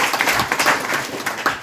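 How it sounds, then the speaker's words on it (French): Short burst of applause from participants at a closing ceremony for a digital inclusion computer training in Ndiaganiao, with scattered, uneven claps over 1.7 seconds, moderately loud and fairly close. "je vous demande de vous applaudir"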